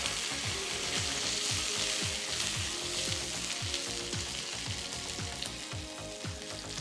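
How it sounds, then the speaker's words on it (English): Vegan Garden Gourmet sausages sauté in a pan, giving a steady, close sizzle and crackle throughout, with repeated low thumps and scrapes from the sausages being turned and stirred. "saute these for a few minutes just until they're nice and brown on the outside"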